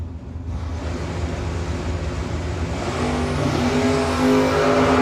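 Drag race car at a no-box 660 shootout launching hard, a loud continuous engine roar building and rising in pitch as it pulls away, heard close.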